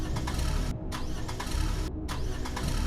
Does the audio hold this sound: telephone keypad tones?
no